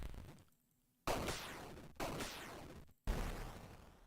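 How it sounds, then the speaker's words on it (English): Retro 8-bit explosion effects from a video game, three loud noisy bursts in a row, each cutting in abruptly and decaying, separated by brief silent gaps. "these are 8-bit explosions"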